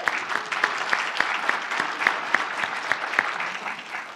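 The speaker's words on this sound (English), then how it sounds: "Give him a round of applause." An audience at a tech conference session claps for a volunteer, a brief burst of moderate applause with sharp individual claps standing out, fairly even throughout.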